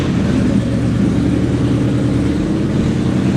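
A race car's engine runs at a steady idle, a loud, close, continuous rumbling drone with a low throbbing pulse and no voices.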